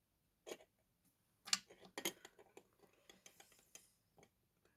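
A wooden stick stirs melted chocolate in a bowl, giving a few scattered scraping and tapping knocks, faint and irregular, with no talking.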